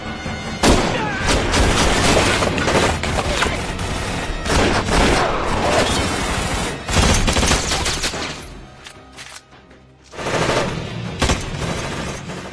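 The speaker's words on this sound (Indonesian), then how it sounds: "anak buah Jonah, ia pun langsung menembaknya." A movie battle scene erupts with dense, loud bursts of machine-gun fire and rapid gunshots, a nearly continuous fusillade that briefly thins before firing resumes.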